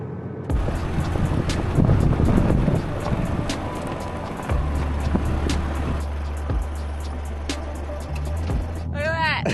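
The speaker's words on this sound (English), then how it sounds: "It's so windy." Strong wind buffets the microphone on a dirt road along the Oodnadatta Track in outback Australia, with a vehicle rumbling underneath. A person talks over the loud, continuous gusting.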